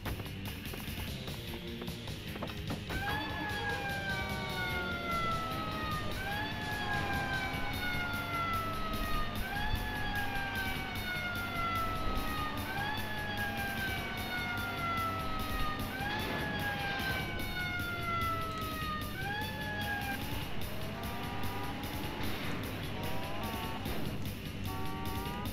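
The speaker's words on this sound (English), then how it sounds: "Police car." A police car siren in the Driver 2 driving game wails continuously in repeating rising and falling sweeps, loud and steady over engine rumble for the whole stretch.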